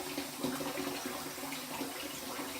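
Water runs steadily from a tap during a wet shave with a razor and peppermint castile soap lather, a continuous close splashing hiss with no break.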